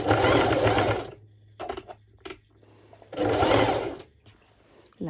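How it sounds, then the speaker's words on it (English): Domestic sewing machine running a straight stitch through layered fabric for ruched shorts, in two loud steady bursts of about a second each with a quiet pause and a few small clicks between them. "And then you place them underneath and do another straight stitch."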